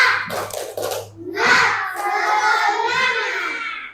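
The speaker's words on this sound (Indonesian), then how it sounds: "Kita kasih tepuk semangat lagi" A primary-school class in Indonesia claps a short rhythmic cheer pattern together, a few quick bursts of hand claps followed by children's voices and chatter rising in the room.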